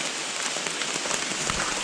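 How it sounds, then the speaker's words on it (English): Steady rain falls through a West Virginia forest during archery season, a dense even patter on leaves and ground with no pauses. "So we're bedded down in this rain."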